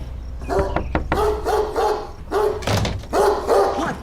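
A dog barks several times in quick bursts, loud and close, with a dull thump partway through and no talking.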